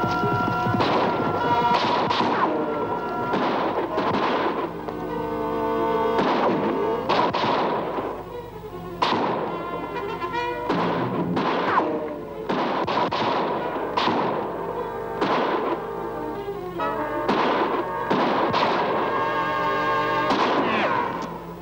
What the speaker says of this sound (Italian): Giada ha sparato quel colpo, Rip.